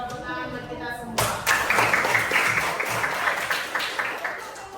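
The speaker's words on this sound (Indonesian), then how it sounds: "Tepuk tangan buat kita semua." A school class in an Indonesian classroom bursts into loud, sustained group clapping after a brief spoken line from the teacher, the applause continuing steadily to the end.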